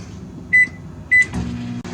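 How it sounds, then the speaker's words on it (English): A microwave oven starts up, two short, bright keypad beeps sounding before the low, steady hum of it running sets in, with a soft clunk near the end, used to melt candy for old-fashioned jelly nougat. "Let's start the microwave, and we're going to start it on 1 minute."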